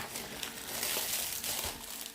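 Plastic packaging film crinkles steadily and close up as a pair of Philips TAT1138 white wireless earphones is unwrapped, a dense, continuous rustle with no talking.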